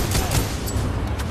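Titanfall 2 gunfire rattles out in a quick burst of several sharp shots, close and punchy, filling the brief moment with no talking.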